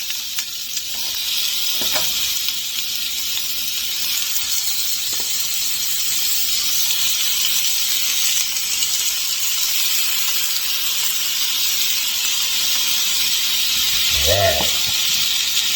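Sausages sizzle in a hot skillet for a breakfast hash, a steady bright frying hiss throughout, with a few soft clatters and a brief voice near the end.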